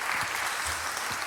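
Enthusiastic applause from a church congregation during a Sunday service fills the room, a steady dense clatter of clapping hands with no voices rising above it.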